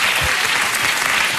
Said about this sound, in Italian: Mi aspettavo un applauso.